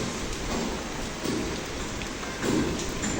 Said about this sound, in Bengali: বৃষ্টির থেকে বাতাস বেশি। বাতাস বেশি।